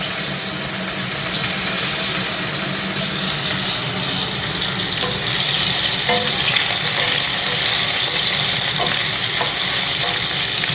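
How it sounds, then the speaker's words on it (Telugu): Drumstick (moringa) pieces fry and sizzle steadily in hot oil with tempering seeds over lowered heat, a dense continuous crackle with occasional stirring clinks, close and loud throughout with no talk. "మునక్కాయ ముక్కలు కూడా వేసుకుందాం"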